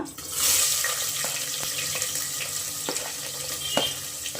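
Onions frying in oil for a tomato bath, a steady close sizzle with occasional stirring clinks and scrapes, no voices over it.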